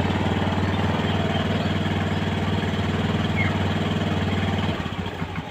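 A Honda Vario F1 110 scooter engine idles steadily and loudly up close with an even mechanical putter, then cuts out near the end.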